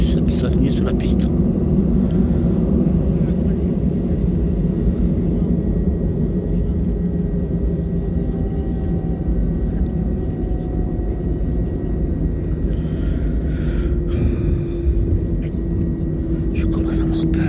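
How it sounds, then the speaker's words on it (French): A jet airliner on the runway at Marseille, lining up before takeoff to Bordeaux, gives a steady, loud engine rumble and whine heard from inside the cabin throughout, with voices talking over it. "Autorisation de s'aligner sur la piste."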